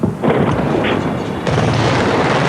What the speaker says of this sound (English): Richard, can you see these huge explosions over to the northwest?